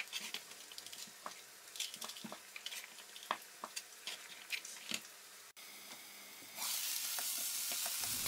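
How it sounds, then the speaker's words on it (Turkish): Potatoes sizzle frying in olive oil in a pan with a few stirring clinks, then a sudden louder, steady hiss as the frying intensifies near the end. "Arada bir karıştırarak patatesleri kızartmaya devam edelim"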